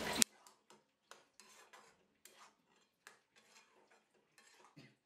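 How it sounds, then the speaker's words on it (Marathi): A spoon scrapes and knocks against a pan as rustic spicy ridge gourd bhaji (dodka) is stirred, in soft, uneven strokes with quiet gaps between them. "झाकण आपण काढून घेऊयात आणि आपली भाजी हलवून घेऊयात।"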